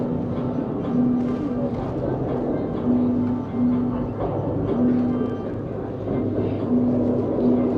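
A mountain train runs to Fansipan in Sapa, Vietnam, giving a steady low rumble and rattle with faint intermittent tonal hums, while a person talks over it.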